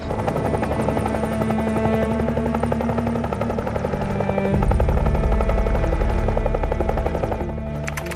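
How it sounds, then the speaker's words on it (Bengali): A helicopter's rotor throb and engine whine fill the air, loud and steady throughout, swelling slightly toward the middle as it draws nearer. "হেলিকপ্টার আসছে স্যার, হেলিকপ্টার আসছে স্যার।"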